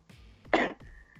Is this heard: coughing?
yes